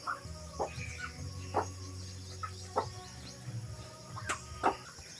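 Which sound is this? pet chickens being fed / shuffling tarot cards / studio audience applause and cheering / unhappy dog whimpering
pet chickens being fed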